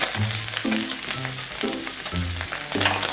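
Pork ribs fry in a pan with a loud, continuous sizzle. Repeated tonal squeaks or scrapes, probably from stirring, recur every half second or so.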